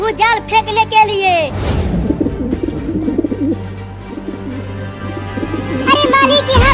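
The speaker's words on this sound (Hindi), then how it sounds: "वो सब कबूतर हमारे दाने को खाने के लिए नीचे उतर रहे हैं" Cartoon pigeons coo as they come down to eat scattered grain, with soft repeated coos and bird calls close by and animated voices in parts of the scene.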